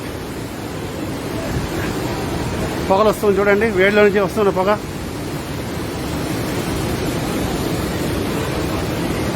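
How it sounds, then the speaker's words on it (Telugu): River water rushes past the Manikaran hot springs in the Himalayas, a constant broad roar close by, with someone speaking over it for a couple of seconds in the middle. "అలాగే ఆ పక్కన నీళ్లు సముద్రంలాగా పారుతూ ఉంది ఇది కూడా వేడి నీళ్లే"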